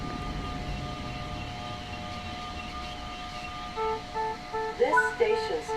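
Train running in a train simulator game: steady rumbling rail noise, then a loud two-tone horn sounding repeatedly near the end, with voices talking over it.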